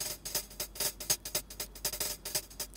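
Programmed hi-hat pattern playing from a clip in Bitwig Studio, a steady run of crisp, bright electronic ticks in even rhythm, close and fairly quiet, with no voices.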